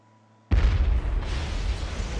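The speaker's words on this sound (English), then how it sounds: "the ship is exploding" A ship blows up in the video game Resident Evil Revelations: a sudden loud blast after a short quiet lead-in, followed by a sustained heavy rumble and roar that continues to the end.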